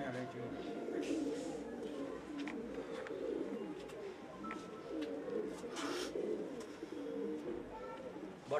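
A pigeon loft: soft, low cooing from several pigeons mixed with rustling and background chatter, steady and continuous under a busy ambient wash.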